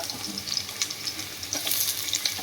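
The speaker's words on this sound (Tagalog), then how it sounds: "Igisahin ko muna sa bawang. Bawang at luya." Chicken feet sauté with garlic and ginger in a hot pan, giving a continuous close crackling sizzle with small pops and spatters throughout.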